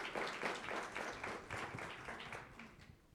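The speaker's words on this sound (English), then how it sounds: "Let's give them a nice round of applause" Audience applause for a small-business entrepreneurship panel, a moderate wash of clapping from a modest crowd that holds steady and then gradually thins toward the end.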